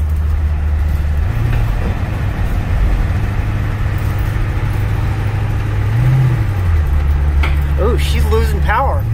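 Ford 7.3 IDI diesel truck labouring up a steep hill, a continuous low engine drone that rises and dips with throttle, heard from inside the cab with a voice near the end.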